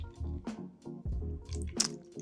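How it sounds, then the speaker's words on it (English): Water poured onto the substrate of a freshly repotted houseplant gives soft, wet squishing and dripping sounds in short bursts, close and quiet. "The water can hit the substrate quite hard and it can move your plant around."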